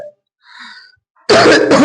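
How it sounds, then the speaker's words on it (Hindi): A short throat sound and faint breathy noise, then a loud, harsh cough bursts out close by near the end. "थोड़ा खांसी हो गया, मैनेज कीजिएगा"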